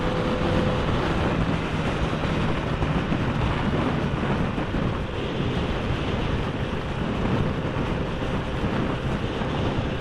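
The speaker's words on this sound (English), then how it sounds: "And it's really f***ing windy." Strong wind buffets the microphone in a continuous roar on the Isle of Man coast, with surf rumbling underneath throughout.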